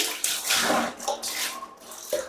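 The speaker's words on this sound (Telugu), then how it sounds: "ఇప్పుడు నేను వాటర్ పోసి క్లీన్ చేసి చూపిస్తాను చూడండి" Water splashes and rushes steadily while a kitchen item is rinsed clean, a close, continuous pour with a few surges and no talking.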